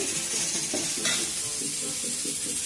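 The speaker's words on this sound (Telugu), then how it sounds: "మునక్కాయను కూడా ఒక సెకండ్ పాటు ఇట్లా ఫ్రై చేసుకున్న తర్వాత టమాటా వేసుకోవాలండి" Radish, green chilli, onion and drumstick fry in a pan, a steady loud sizzle throughout with soft rhythmic stirring scrapes and a brief utensil clink.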